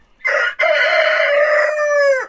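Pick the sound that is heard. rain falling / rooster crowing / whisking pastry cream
rooster crowing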